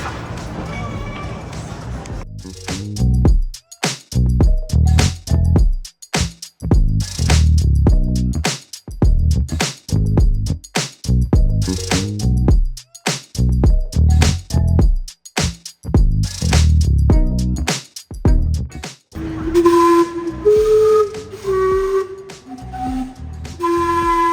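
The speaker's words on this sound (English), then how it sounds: "That was Gastown's amazing steam-powered clock" Gastown's steam-powered clock whistling on a city street, with chopped, rhythmic sound for most of the clip before a run of clear, loud whistle tones near the end.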